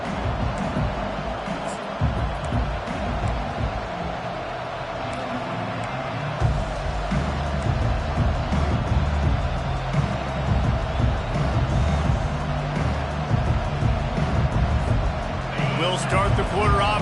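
A football stadium crowd roars loudly and continuously during the 4th quarter, a dense rumbling wall of noise with a commentator talking over it.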